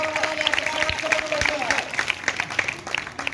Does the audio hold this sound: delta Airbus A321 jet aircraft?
no